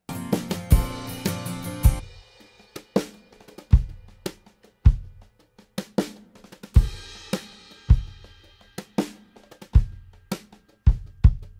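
Studio drum kit mix with chamber reverb on the snare: a steady groove of punchy kick and snare hits, each with a short reverb tail, opening with a dense busy fill before settling into a regular beat, loud and alone.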